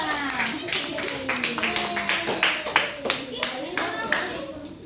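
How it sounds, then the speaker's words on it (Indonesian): Elementary school children in a fifth-grade classroom clapping hands together, a rapid run of many close claps in an uneven rhythm, with children's voices and a teacher talking over it. "tepuk tangan untuk kalian semua"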